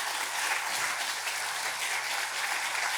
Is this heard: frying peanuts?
no